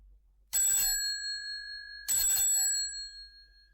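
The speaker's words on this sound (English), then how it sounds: "Then suddenly she ran across the road and rang Holmes's doorbell." A bright electronic doorbell chime sounds twice, each ring clear and ringing out briefly before fading, with quiet silence between and after the two presses.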